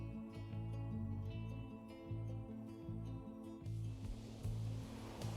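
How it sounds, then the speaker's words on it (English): Water laps and waves wash beside a boat in the video game Pyre, a steady full rushing surf with a low rolling undertone, continuous and moderately loud with no talking. "I hear water."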